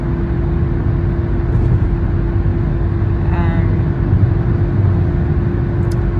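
Steady low road rumble from inside a car on the move, a constant loud drone with a faint whine passing midway, no change in pace.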